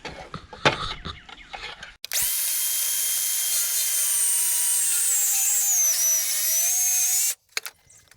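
A cordless circular saw whines steadily through a wooden rafter for about five seconds, loud and close, starting and stopping abruptly after a few handling knocks.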